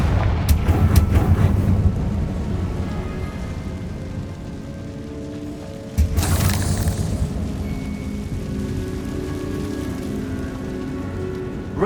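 Confringo blasting spell exploding in the Hogwarts Legacy game, a sudden loud blast partway through, preceded by crackling rumbling noise and followed by a sustained rushing, debris-like wash.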